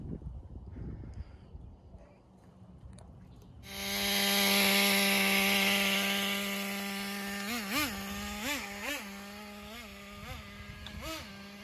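Traxxas Nitro Rustler RC car with a nitro engine: a few seconds of handling noise, then a small two-stroke engine bursts into a loud, high, buzzing idle that keeps running, with several sharp throttle blips near the end.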